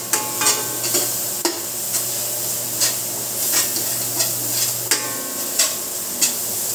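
Garlic and onion sautéing until golden brown in a pan: a constant close sizzle with a low hum beneath, punctuated by regular sharp scrapes and taps of a spoon stirring against the pan, with no talking.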